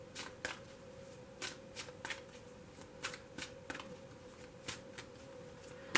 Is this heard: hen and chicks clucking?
no